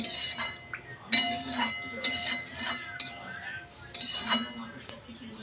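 A metal lid clinks onto a pan of simmering egg curry with fennel, giving a few sharp, close metallic knocks and clatters amid light kitchen handling.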